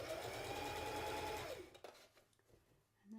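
A sewing machine top stitching around a kids' newsboy hat runs with a steady, close whirring hum for about a second and a half, then stops, leaving a few faint fabric rustles and clicks.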